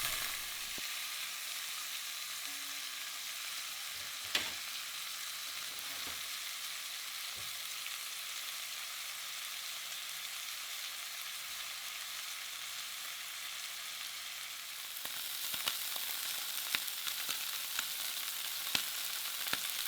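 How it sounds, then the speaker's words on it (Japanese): Pieces of eel sear in a frying pan, giving a steady soft sizzle with occasional pops and crackles that grows brighter and busier toward the end. "うなぎの断面を焼き固めるというような感じにして"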